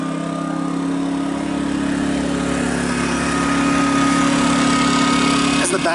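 Westinghouse iGen2200C portable generator running, heard close from the back near the muffler, a steady, loud, even engine drone with a constant hum throughout.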